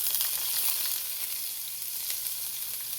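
Garlic frying in a hot skillet, a close, even hiss of sizzling oil with faint crackles throughout, no voices.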